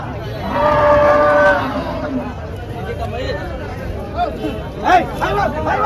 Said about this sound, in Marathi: एकदम फुल बाजार भरलेला आहे भरपूर गाय आलेले आहे